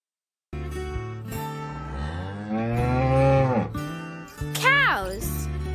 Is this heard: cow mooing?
yes